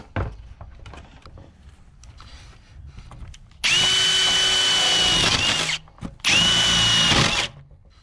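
A power drill bores through a wooden board for a barn door in two loud bursts, a long one and then a shorter one after a brief pause, with quiet handling noise before them.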